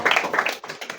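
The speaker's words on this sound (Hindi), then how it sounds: "रेखा सोनकर के लिए पहले जोरदार ताली बजाओ भैया" An audience claps for a student, Rekha Sonkar, at a school gathering; a short burst of dense hand claps sounds fairly close, then thins toward the end.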